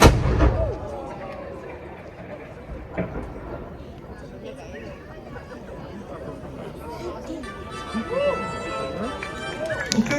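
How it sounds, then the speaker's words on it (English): A ceremonial evening gun fires in Valletta, Malta, starting with a sharp, booming cannon blast that rolls off into echo, followed by a later thud, while a crowd murmurs and someone speaks throughout. "I hope the cannon was loud enough for you"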